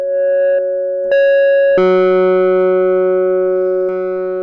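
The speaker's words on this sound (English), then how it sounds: "So analog crunch on a sine wave." Sine wave tones run through an analog crunch distortion effect in the UVI Falcon synthesizer, a series of loud sustained notes switching pitch with sharp onsets, each gaining a buzzy, harmonically rich edge, with no voices.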